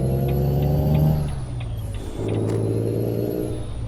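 A Cummins diesel truck engine in American Truck Simulator drones steadily at a low, loud rumble, dipping in pitch partway through before settling back to an even hum.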